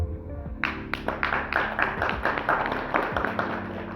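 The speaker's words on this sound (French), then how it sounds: "Et ça s'applaudit." An audience at a French-language summit on digital technology and artificial intelligence gives sparse, scattered applause: separate claps that are fairly close and moderately loud, with no talking over them.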